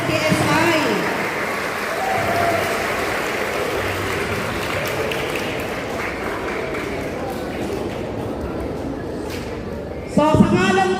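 Crowd applause at an elementary school donation ceremony for the donors, steady clapping sustained for about ten seconds before a louder shift at the end.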